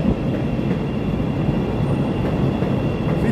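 A short four-car Chicago Pink Line elevated train rumbles past up close, a loud, steady rail roar with faint clatter and no voices.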